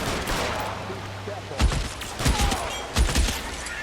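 Gunfire in the video game L.A. Noire: a few loud, close shots in quick pairs and clusters over a steady background hum, with a short gap between bursts.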